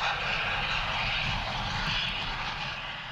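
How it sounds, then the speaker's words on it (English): A Beech B-55 twin-engine plane lands at night at Parafield, its wheels and then its nose meeting the tarmac. A steady, fairly loud propeller engine roar with broad hiss continues throughout, tapering slightly at the end. "The Beech B-55 touches down on 2 wheels before its nose hits the deck"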